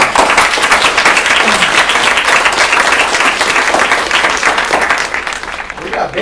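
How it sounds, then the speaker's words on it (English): A crowd at a real estate company meeting breaks into loud, sustained applause and clapping for several seconds, fading slightly toward the end. "Give those guys a round of applause."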